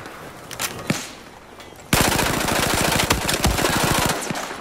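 Loud, rapid automatic hip-fire from a gun in the shooter video game Battlefield 4, a fast, even burst that starts abruptly and keeps going, after a couple of quieter clicks and thumps.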